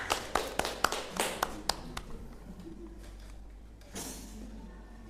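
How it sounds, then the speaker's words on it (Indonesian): A few people in a classroom lesson clap their hands in a quick, uneven burst of close, crisp claps that thins out after about two seconds, leaving faint room noise and a soft rustle. "Ya, Mumtaz, tepuk tangan."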